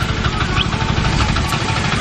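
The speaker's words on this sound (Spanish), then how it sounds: "este es el motor que hace que funcione todo eso" A motor powering a tarabita cable crossing, used to carry a motorcycle across a river valley, runs steadily and loudly with a low rumbling drone and constant vibration throughout.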